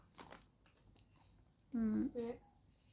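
Crunchy chewing of vegetables close to the mic, a few short bites near the start, followed by a brief spoken voice.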